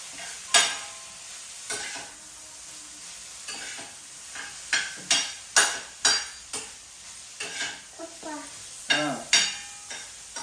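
A spoon scrapes and knocks against a pan in irregular strokes as curry with freshly added coriander is stirred, over a soft continuous sizzle, close and fairly loud.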